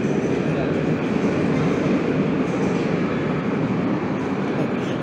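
A Moscow metro train runs toward Elektrozavodskaya, a loud continuous rumble and roar of wheels on track heard from inside the car, steady throughout.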